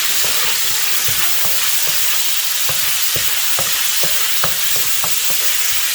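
Garlic sizzles loudly in hot oil in a pan for a squid and bottle gourd stir fry, a steady close hiss broken by regular scraping stirs, with no voices.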